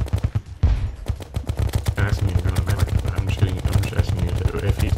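Rapid cannon fire from pirates in the video game Terraria, a dense barrage of loud booming shots in quick succession with a brief gap near the start, while a voice talks faintly underneath.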